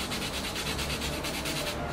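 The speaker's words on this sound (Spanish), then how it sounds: "lo lijo con una lija mediana." Medium-grit sandpaper rubs against the tip of a charcoal stick in rapid, even back-and-forth strokes, giving a close, steady scratchy rasp that runs alone throughout.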